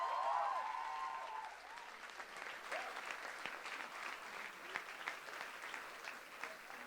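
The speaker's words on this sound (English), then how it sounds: "Let's give a big round of applause to classes." Audience applause at a school annual day, a steady wash of clapping from a crowd that starts strong and slowly thins, heard at a moderate distance with no talk over it.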